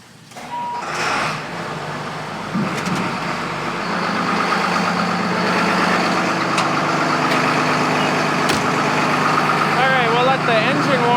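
Snowplow payloader engine idles steadily in the snow, a loud continuous diesel rumble that builds slightly and then holds, with a few clanks and squeaks on top and a voice talking over it.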